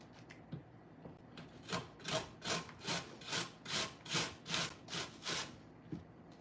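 Food rasped on a standard hand grater in a home kitchen, about a dozen steady rhythmic scraping strokes, close and fairly quiet, with no one talking.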